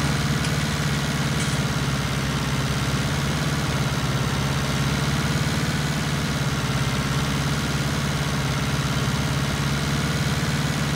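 A Massey Ferguson 277G tractor with a turbocharged three-cylinder 77 hp engine runs steadily in a field, a loud, constant low rumble with a slight vibration and no change in pace.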